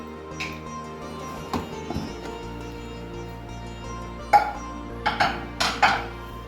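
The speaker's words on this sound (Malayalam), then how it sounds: "അപ്പോൾ ആവിയൊക്കെ പോയിട്ടുണ്ട് നമുക്കൊന്ന് തുറന്നു നോക്കാം" Metal clinks and clanks as a pressure cooker lid is opened over cooked horsegram curry, with a few sparse taps early on, then a quick cluster of sharper rattling clinks near the end in a quiet kitchen.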